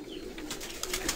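Kept pigeons, including a young one, in a loft in Sialkot, giving soft, low cooing close by amid faint background noise, brief and unaccompanied by talk.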